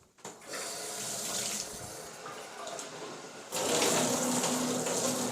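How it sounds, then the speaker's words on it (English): Water squirts from a newly installed handheld shower head hose, aimed into a corner, as a steady hiss and splash that grows louder and fuller partway through, with no voices. "I'm squirting water out of the hose."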